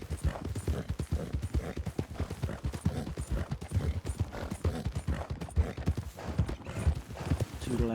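Horses' hooves clip-clop in a video game, a quick rhythmic trotting patter that runs steadily throughout while people talk over it.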